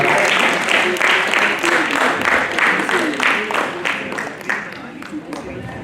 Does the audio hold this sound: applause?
yes